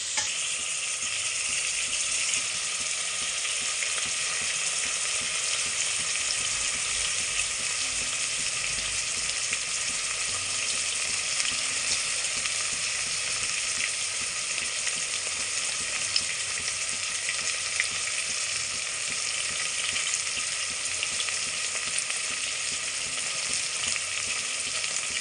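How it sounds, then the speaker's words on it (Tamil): Eggs frying in a kadai, a close, continuous bright sizzle that holds steady throughout with faint stirring underneath and no talk. "அதை ஃப்ரை பண்ணி."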